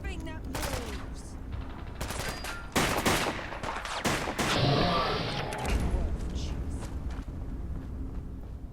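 Bursts of gunfire in the video game Fallout London, loud rapid shots and automatic fire clustered together with heavy impacts and crashes, some voices mixed in amid the chaos.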